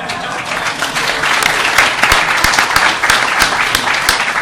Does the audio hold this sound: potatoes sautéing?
no